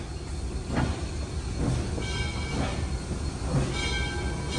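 Southern Railway steam locomotive 630 working a local freight near Missionary Ridge, Chattanooga, with a steady rumbling train noise, a few faint squeals and clanks rising and fading across the recording, fairly distant.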